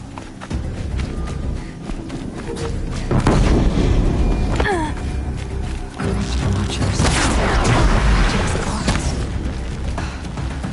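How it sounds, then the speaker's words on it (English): Explosions and heavy booms from Horizon Zero Dawn gameplay, loud dense rumbling bursts around the middle and later stretches, layered over ongoing game noise and footsteps. "An explosion."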